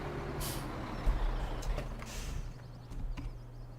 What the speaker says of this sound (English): Right now we're just going to park the truck and the tanker down here.